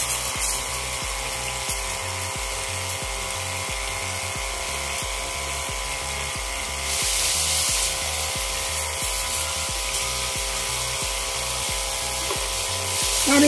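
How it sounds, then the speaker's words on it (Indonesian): A repaired car and motorcycle washer pump runs with a steady, rapid pulsing hum while spraying water, loud and continuous, brightening with a hiss partway through. "Lalu kita tes apakah semprotannya tambah kencang."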